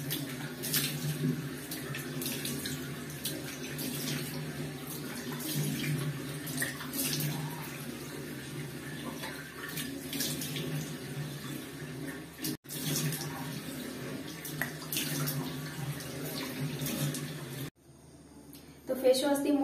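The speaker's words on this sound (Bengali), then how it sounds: "এবার আমি মুখটাকে ধুয়ে নেব।" Tap water runs steadily into a sink during face washing, a continuous close hiss and splash that cuts off briefly near the end, with a person talking over it.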